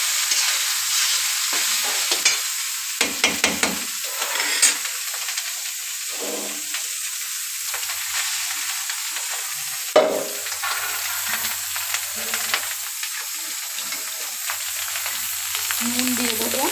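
Pulao fries in a pot under a loud, steady sizzle and hiss while a spoon stirs it, adding bursts of scraping and clinks throughout. Nobody speaks.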